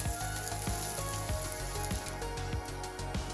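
Radish mini pancakes frying in a pan give off a steady, close sizzle and crackle of hot oil, with no voices present.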